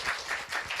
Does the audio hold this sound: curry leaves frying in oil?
no